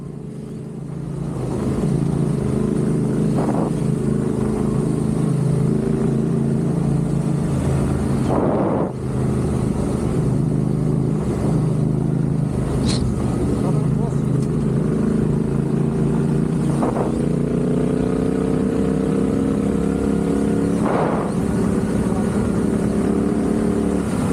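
Vehicle running flat out across the dry lakebed of Lake Iriki, Morocco, at nearly 100 mph, giving a steady, loud engine drone with rushing wind noise and a few brief thumps from the ground.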